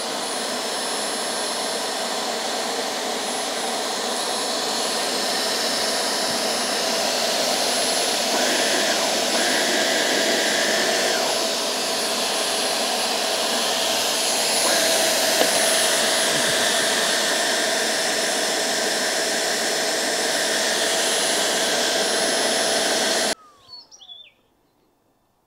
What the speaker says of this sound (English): Sorry, they're a bit noisy, these Hoovers.